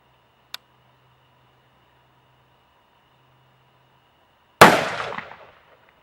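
A single rifle shot fired from a Caldwell Lead Sled Solo while sighting in a scope, a sharp loud crack with a short decaying echo after a tiny click and near silence.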